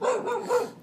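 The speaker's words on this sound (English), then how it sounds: "That's my dog Trip barking at the neighbor" A pet dog barks at a neighbor outdoors on a hot summer day, giving a short, close burst of one or two loud barks that fade quickly.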